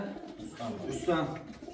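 Soft pigeon cooing close by, a few low throaty calls mixed with someone speaking over them.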